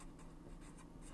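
Pen writing out a math answer on paper, a continuous close scratching with faint repeated strokes, no talking.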